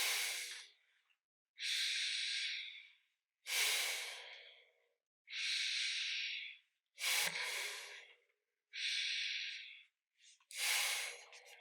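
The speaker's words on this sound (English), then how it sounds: "inhale through your nose and exhale through your nose" Slow nasal breathing during a yoga breathing exercise, inhaling and exhaling through the nose in long, even, airy breaths separated by short pauses, close and quiet.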